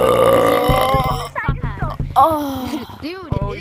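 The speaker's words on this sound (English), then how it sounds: "I do burps, man." A long, loud, drawn-out burp, followed by a burst of voiced, croaky sounds that may be further burps or talking, heard up close in a gaming setting.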